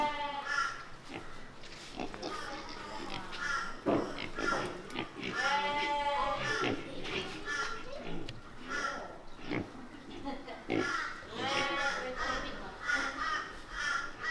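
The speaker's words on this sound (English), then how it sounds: "Oh, there's the pig." Pigs at a petting zoo oink and grunt in short, repeated bursts close by, mixed with bird calls and people talking nearby throughout.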